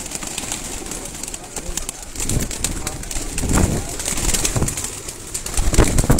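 Pigeons being readied for competition coo close by in low, soft repeated calls over a busy outdoor background, with occasional wing flutters and people talking.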